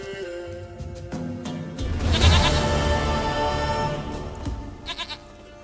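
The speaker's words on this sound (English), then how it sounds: "Goat of mine, dearest..." A goat in The Witcher 3 gives a sustained, wavering bleat that swells mid-clip over ambient game sound, fading out with a few short clicks at the end.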